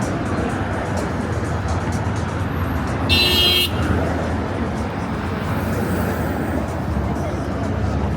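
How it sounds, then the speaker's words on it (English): A car horn honks once, briefly, on the busy Las Vegas Strip around midday, standing out over steady, loud traffic and street noise. "With the honking of the horn as they're going behind him."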